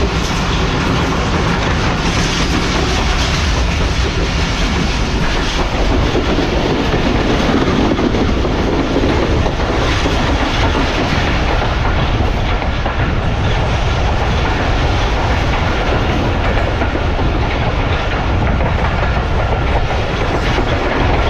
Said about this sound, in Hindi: एक अदद मालगाड़ी को ओवरटेक कर रहा है।